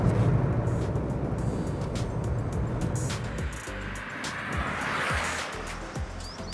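A 2018 Honda Amaze with a 1.2-litre petrol engine driving along, a steady broadband road and engine rumble with wind noise, fairly loud and continuous throughout.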